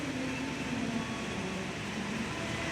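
The Gaya Baru Malam Selatan passenger train pulls out of Kroya station in Indonesia, a steady close rumble of rolling wagons with a low hum, heard alone without talk.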